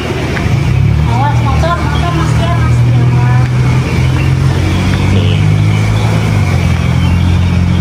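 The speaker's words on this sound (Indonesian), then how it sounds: "kebanyakan mobil-mobil yang lalu-lalang di sini tuh cukup kenceng" Fast cars pass steadily along a road near an airport in Malaysia, a continuous loud engine and tire rumble filling the scene while a voice talks over it.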